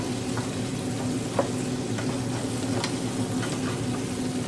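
Crab fries in a hot pan while being stirred, producing a continuous loud sizzle broken by scraping stir strokes, with no voices.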